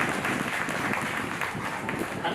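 An audience at a Shreemad Bhagwat devotional gathering claps together in a brief, dense burst. The clapping is steady and moderately loud across the short span, mixed with crowd murmur.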